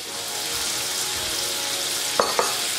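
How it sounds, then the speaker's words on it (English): Prawns frying in oil in a pan give a steady, close sizzle throughout, with two brief clinks near the end. "I'm just going to add it into the pan and let them get a little crispy"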